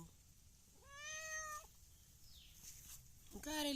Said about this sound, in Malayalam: ഈ മിയാവിൻ്റെ അർത്ഥം മനസ്സിലായോ